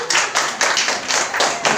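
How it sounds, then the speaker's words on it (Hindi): An audience claps for a girl in steady, rhythmic unison, with about six loud, close claps in quick succession. "ताली बजाओ उसके लिए"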